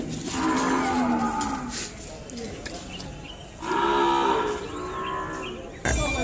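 An Ongole calf at a busy cattle market in Kodad gives two long, loud, close moos a few seconds apart, with crowd voices and market noise underneath.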